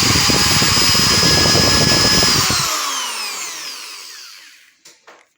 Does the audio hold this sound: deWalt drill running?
yes